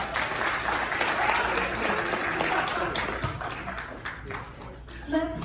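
A crowd at a birthday celebration applauds a performer called the Candy Shell, a full, continuous clatter of clapping that thins toward the end, with some voices mixed in.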